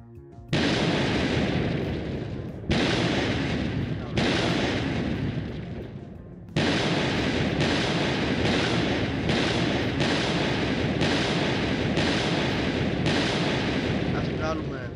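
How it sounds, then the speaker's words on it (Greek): Gun muzzle explosions in an Unreal Engine 4 first-person shooter game: loud, heavy booming blasts in long sustained bursts, a couple of short bursts first, then a rapid string of repeated shots with brief gaps. "να βγάλουμε καλύτερα την έκρηξη που γίνεται στο όπλο"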